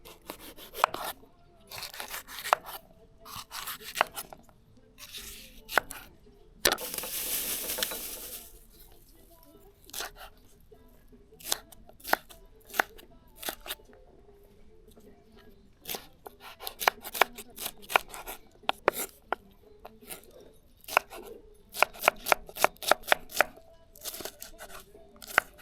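Knife chopping vegetables on a board, bursts of quick sharp taps with pauses and a rustling scrape midway, close and fairly loud.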